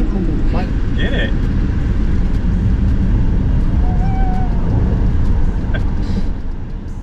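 A Tesla car driving and accelerating, heard as a steady broadband rush of road and wind noise from inside the cabin that eases off near the end, with faint brief chirps over it.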